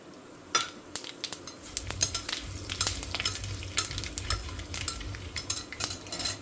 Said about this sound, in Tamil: இப்போ நம்ம தாளிக்கிறதுக்கு இந்த சாமான்கள்லாம் ஆட் பண்ணிக்கலாம்.